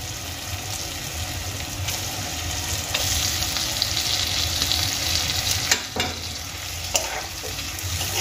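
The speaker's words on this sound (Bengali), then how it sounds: "এবার আমি আলু আর এই মশলার সঙ্গে ডিমগুলো খুব ভালো করে মিশিয়ে নেব" Eggs fried in advance are stirred into fried potatoes and spice masala in a pan: a steady, close sizzle with scraping and stirring. Louder scrapes come near the end, and no one speaks.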